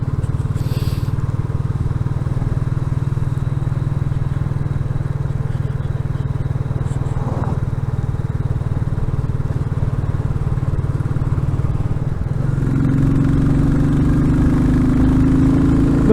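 A Royal Enfield Classic 350 motorcycle rides along a road from Bowness on Windermere to the Lyth Valley, its single-cylinder engine thumping steadily and loudly throughout, with a slight change in tone near the end.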